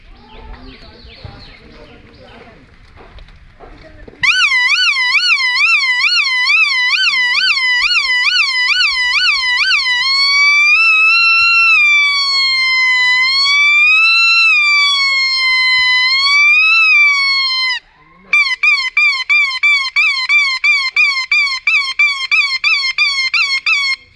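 A man imitates an ambulance siren on a whistle, first in a fast warbling pulse, then in a longer wailing rise and fall, then pulsing again, loud and close after brief low noise at the start.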